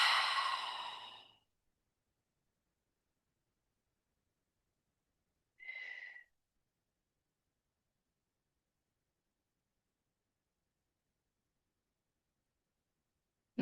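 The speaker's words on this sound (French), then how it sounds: "Expire." A slow exhaling breath during kundalini yoga is heard as one long, soft sigh, followed after a silence by a shorter, fainter breath, with quiet stillness between them.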